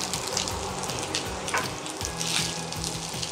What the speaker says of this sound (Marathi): आणि पटकन हा फ्राय करून घेऊया